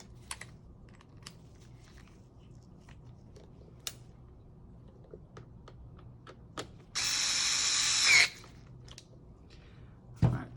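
A small electric screwdriver buzzes in one loud burst of just over a second, driving screws into the hinges of a MacBook Air, set among quiet ticks and taps of handling in a hushed room.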